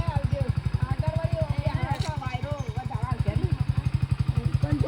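A motorcycle engine thrums with a steady pulsing putter, fairly close, while a voice talks over it.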